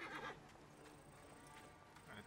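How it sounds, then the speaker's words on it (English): A horse in the video game Assassin's Creed Origins whinnies briefly, with hooves clip-clopping, all quiet and short. "There's the horse,"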